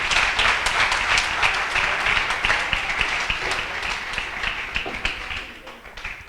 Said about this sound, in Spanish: Vamos a darle un fuerte aplauso al Espíritu Santo